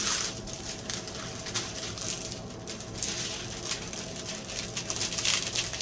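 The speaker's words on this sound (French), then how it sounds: "Excusez-moi pour le bruit du plastique," Continuous crinkling of plastic, close and fairly loud, with crackly bursts rising and falling throughout and no voices.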